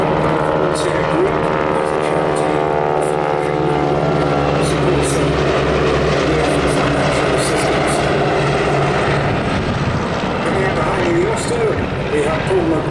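An historic Army Auster Mark 9 propeller aircraft drones steadily overhead with a continuous humming engine note, while someone talks over it throughout.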